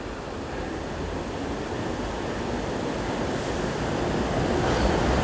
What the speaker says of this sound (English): you can see the whole front of the Trip Hammer Falls.